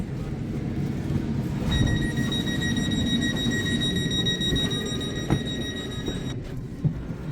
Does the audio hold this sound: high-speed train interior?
yes